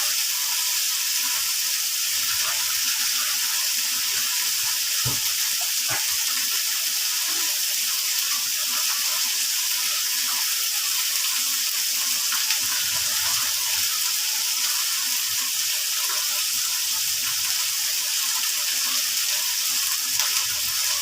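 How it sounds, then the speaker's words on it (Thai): Tap water runs steadily over Thai eggplants being washed in a sink, a continuous loud hiss with occasional soft knocks and splashes. "เอามาล้างเป็นลูกๆก่อนให้เรียบร้อยผิวนอกมันสะอาดก่อนนะ"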